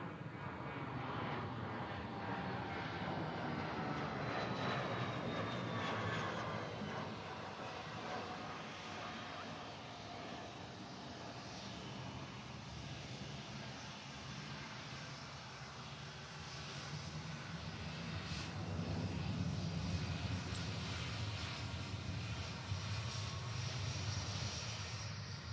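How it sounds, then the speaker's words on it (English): A business jet climbs away after takeoff at Manchester Airport, its engine roar a steady broadband rumble that swells near the end, with no talk over it. "BizJet's just took off."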